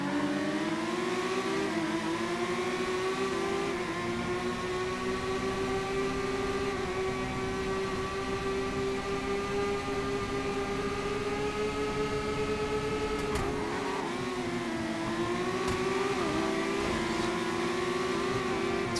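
Car engine in a racing video game, a loud, sustained drone that holds steady throughout, with a brief dip and shift in pitch near the end.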